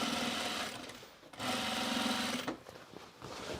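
A sewing machine stitches elastic into the waistband of Zen pants in two steady runs, pausing briefly between them, then slowing into uneven, stop-start bursts at close range.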